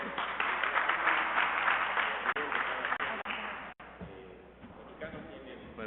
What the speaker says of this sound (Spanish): al que le damos un fuerte aplauso.